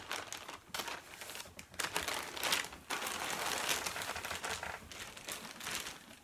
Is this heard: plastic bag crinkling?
yes